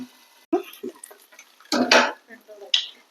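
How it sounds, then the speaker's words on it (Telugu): A lid is set on a cooking pan while frying a cauliflower snack, giving a few short metallic clinks and clatters close by, with brief speech around them. "మూత పెట్టుకుందాం."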